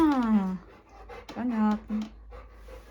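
A dog whimpers with a high, wavering whine and pants in short breaths, close by, while a person speaks over it.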